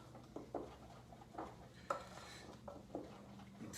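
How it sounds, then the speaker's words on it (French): A spoon or spatula folding stiffly whipped egg whites into a lemon-lime pudding batter in a bowl, giving soft, close scrapes and light clinks at an uneven pace, quiet and with no voices. "J'ai monté 3 blancs ici, 3 blancs d'œufs que j'ai montés en neige ferme, que j'ajoute à mon mélange."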